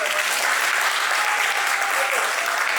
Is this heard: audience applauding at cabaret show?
yes